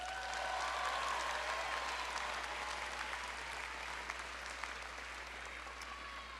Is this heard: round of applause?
yes